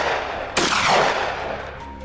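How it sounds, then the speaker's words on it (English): Gunfire aimed at a herd of wild boars during a hunt: a sudden loud crack of shots bursting out mid-clip, decaying into a rolling echo over steady outdoor background noise. "We couldn't miss the opportunity and opened fire together."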